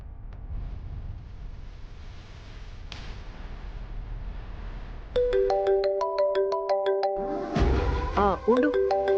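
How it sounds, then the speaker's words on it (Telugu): Phone ringtone of an incoming call plays a bright repeating electronic melody, starting partway through after a stretch of muffled background noise and sounding clearly and fairly close. "అమ్మకి ఏదో అర్జెంట్ కాల్ వచ్చింది"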